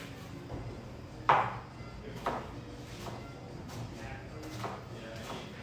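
A knife mincing snapper for ceviche on a cutting board gives a few sharp, separate chops, the first one loudest, spaced about a second apart under quiet background noise.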